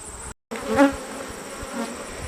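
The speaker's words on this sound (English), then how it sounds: "we got quite a bit of bees up there" Honey bees buzz inside a hive box, a steady close insect hum with a brief dropout near the start and no voices.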